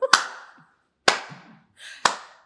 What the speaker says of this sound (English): Slow claps only for him.